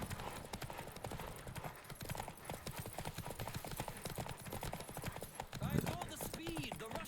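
Rhythmic clip-clop of galloping horse hooves in the video game The Witcher 3: Wild Hunt, steady and close, with a brief whinny-like sound near the end.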